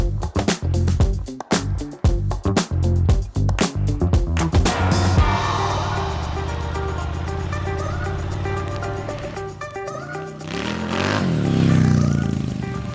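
A motorcycle ridden on the road, heard through helmet-mounted cameras and microphones: rough buffeting and clatter at first, then a steady engine drone and wind rush with gear-shift changes, loud and close, with no one talking.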